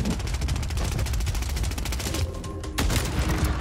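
A Ballista sniper rifle with iron sights fires in the Warzone video game, giving a sharp, distant-sounding report with a brief echoing tail amid faint background game noise.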